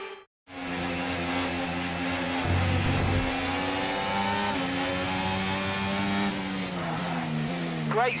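Race car engines in a racing video game rev and whine continuously, pitch rising and falling through gear changes, loud and close, with a voice speaking over them.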